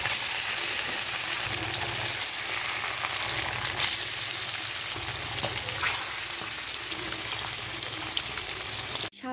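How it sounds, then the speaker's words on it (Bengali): Okra and potato fry in a pan with a steady, moderately quiet sizzle and crackle that runs throughout, broken by occasional faint stirring scrapes and small pops. "দেখি ভেন্ডি আলু ভাজা বা অন্য কোনো কিছু"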